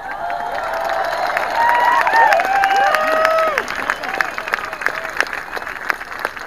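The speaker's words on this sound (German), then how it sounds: "kann der Applaus ruhig größer sein." Outdoor rally crowd at the Brandenburg Gate in Berlin clapping and cheering, with whoops and shouted calls rising over steady applause that thins into scattered claps.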